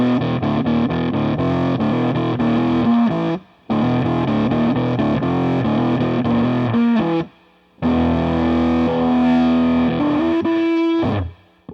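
A harsh, buzzy guitar tone through a digital bit-crushing fuzz pedal with a gritty digital edge, played in sustained chords and phrases with two brief gaps of silence.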